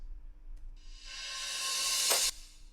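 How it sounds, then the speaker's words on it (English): A reversed crash cymbal sample in a drum-and-bass production, swelling gradually from near silence into a bright, hissing wash that peaks and then cuts off abruptly, heard alone after a faint tick. "but then reversed, which sounds like this."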